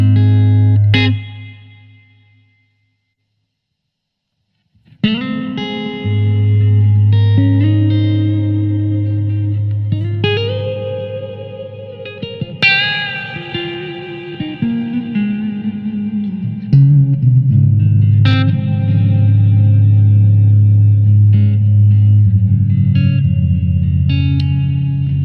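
Electric guitar chords through a Blackstar ID:Core V4 amplifier ring out heavily drenched in reverb, notes sustaining and washing together after a brief silence near the start; loud and alone.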